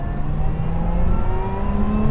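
Lotus Emira sports car driving with a steady engine drone and a faint rising whine, heard continuously from inside the cabin at moderate loudness.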